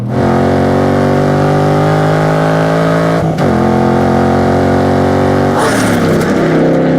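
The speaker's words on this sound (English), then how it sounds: "And the engine note is pure muscle car. It's just deep, throaty, and violent." A 2016 Ford Mustang Shelby GT350R V8 roaring loud and close, a deep, sustained harmonic engine note that briefly dips and recovers twice.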